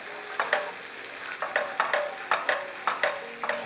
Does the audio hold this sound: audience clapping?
no